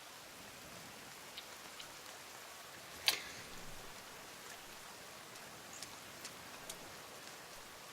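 Steady rain falls in the survival video game The Forest, a soft, even hiss with scattered faint droplet ticks and one sharper tap, quiet and continuous with no talking.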